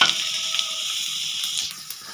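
Diced eggplant goes into a pan of frying potatoes for a Bengali shukto, raising a steady close sizzle with faint stirring scrapes and no voices.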